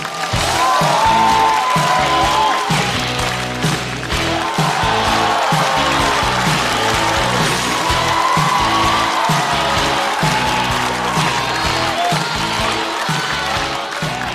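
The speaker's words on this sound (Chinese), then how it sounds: "掌声欢迎姜子浩" A theater crowd at a stand-up comedy show claps and cheers steadily to welcome a comedian on stage, dense, loud applause with occasional whoops that runs throughout.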